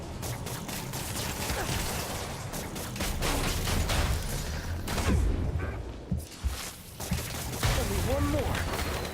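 Enemy gunfire in Marvel's Spider-Man, a dense stream of shots and impacts mixed with game effects, loud and continuous, with someone talking over it.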